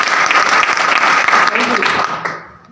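Loud audience applause at a direct-selling motivational seminar, a dense close burst of clapping that holds steady for about two seconds then quickly fades out.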